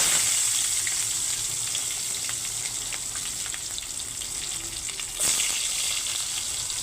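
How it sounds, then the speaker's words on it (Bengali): Capsicum sizzles and crackles steadily in hot oil in a pan, a continuous close frying hiss with small pops and a brief scraping clatter near the end. "এখন ক্যাপসিকামগুলো ভেজে নেব"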